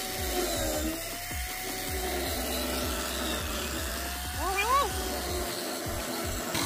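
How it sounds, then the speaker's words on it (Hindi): A steady mechanical whine of a drill machine grinding into a phone, with a low rhythmic pulsing, sometimes rising into brief squeals, continuous throughout. "इन पे हम लोग ड्रिल मशीन चलाएंगे"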